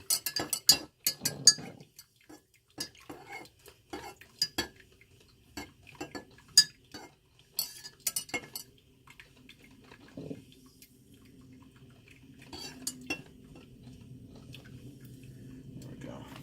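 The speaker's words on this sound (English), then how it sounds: "with coffee and cream, so you got to stir it up good" A spoon clinks against a cup while stirring coffee with cream, a quick run of sharp taps followed by scattered clinks and softer handling noise, with someone talking nearby.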